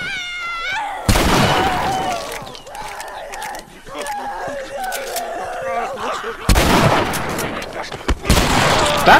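Shotgun blasts in the video game The Last of Us, two loud sharp bursts several seconds apart with a crack at the end, amid shouting voices and other game sounds.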